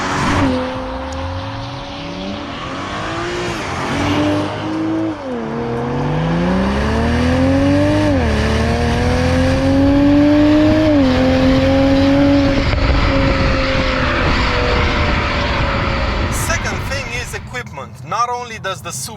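Toyota GR Supra sports car engine and exhaust, loud and close, rising and falling through several revving surges before a brief crackle near the end, under a continuous steady roar.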